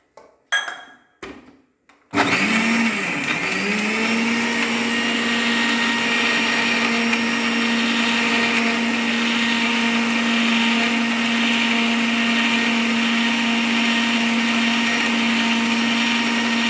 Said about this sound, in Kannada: ಈಗ ಇದಕ್ಕೆ ನೀರು ಸೇರಿಸಿ ರುಬ್ಬಿಕೊಳ್ಳಿ